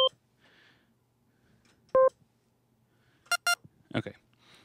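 Korg microKORG synthesizer switching between digital waveforms, giving a few short, isolated electronic blips and beeps of varied pitch with quiet gaps, faint and sparse.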